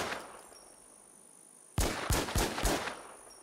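A B92 9mm pistol from The War Z video game fires four sharp, loud shots in quick succession after a quiet pause, each with a short ringing tail.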